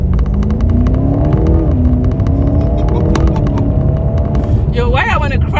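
A BMW M8 Competition Gran Coupe accelerates hard, its engine note rising and falling through the gears as a loud, close rumble from inside the cabin, while a person talks over it and a short rising whine comes near the end.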